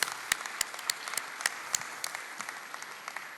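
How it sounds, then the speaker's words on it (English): Light applause at a university ceremony, a thin scattering of individual hand claps at a distance, uneven and sparse rather than a full crowd. "Let's give her applause."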